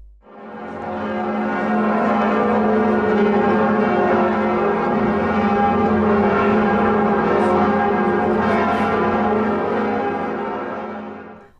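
The great bells of Notre-Dame de Paris ring together in a dense, sustained peal, loud and continuous, with rich overlapping tones swelling and fading at the edges.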